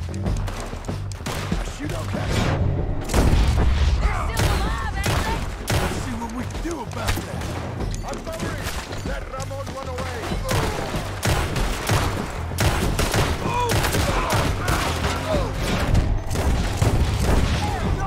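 Rapid bursts of gunfire and heavy booms in a Red Dead Redemption 2 shootout, loud and dense throughout, with voices shouting over the shots.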